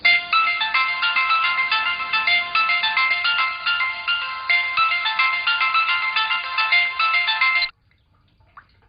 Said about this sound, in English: I've been ringing the bell so many times